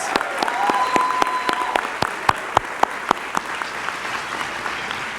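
Audience applause at an FEA Delegate Assembly, a crowd clapping steadily then thinning to sparse, sharp individual claps, with a faint tone and murmur in the background.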